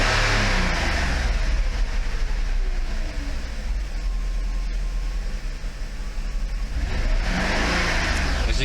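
The engine of a Mercedes 500E W124, freshly started, revs steadily around 1500 RPM with a broad, dense roar that swells near the start and end, loud and close throughout with no talking.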